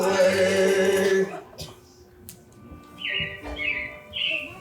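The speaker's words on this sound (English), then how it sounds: "it looks like the Robins are getting ready to celebrate Valentine's Day today" Chirping robins, a sound effect in the Carousel of Progress show, come in as a few short, bright, close chirps after a louder stretch of show sound fades out.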